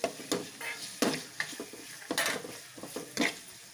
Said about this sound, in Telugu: 1 స్పూన్ అల్లం వెల్లుల్లి పేస్ట్, ఇది కొంచెం ఫ్రై అయిన తర్వాత